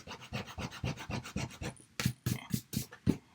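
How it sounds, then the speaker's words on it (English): Sand eraser rubbing an ink smudge off paper, a quick run of rhythmic raspy strokes up close, pausing briefly then resuming in a few harder scrubs. "So I have just this little sand eraser,"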